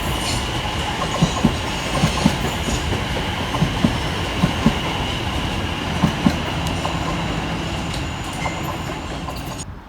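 A Greater Anglia passenger train runs through a station on the Great Eastern Main Line, with a steady loud rumble and a rhythmic series of wheel clicks over rail joints as the carriages pass close by.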